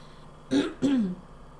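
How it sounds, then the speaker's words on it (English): Two quick, rough coughs in close succession, near and fairly loud, with quiet before and after. "Yes, I do have a cough."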